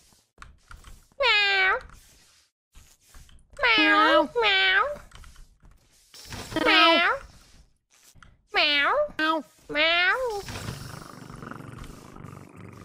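A human voice imitates a cat, producing about six distinct meows in short bursts with pauses between them, close and clear.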